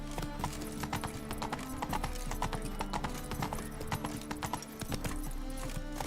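Horse hooves clip-clop in a steady, even rhythm while riding in The Witcher 3, close and continuous throughout with no talk.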